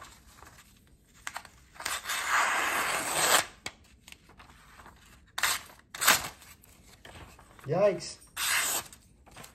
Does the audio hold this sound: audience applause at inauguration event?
no